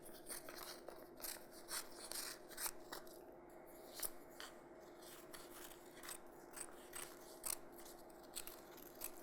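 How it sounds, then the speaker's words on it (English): Scissors snipping paper for a Matisse-style paper-cut collage. The cuts come as a quiet, steady run of short crisp snips and rasps, close by, with no talk over them. "So what I'll do here is just cut a bit of that paper."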